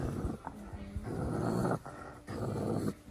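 Zoo animal growling at another animal, a series of low, rough growls in three long bursts separated by short pauses, close and moderately loud.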